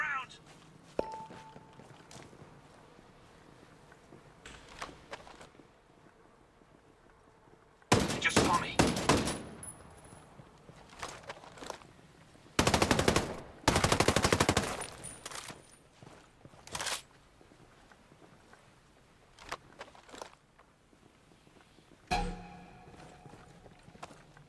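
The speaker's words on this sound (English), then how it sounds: "I hear enemy fire in the area." Bursts of gunfire in the open-beta PvP of the video game Ghost Recon Breakpoint, with two loud rapid volleys separated by quieter stretches, plus fainter scattered shots and a player talking at times.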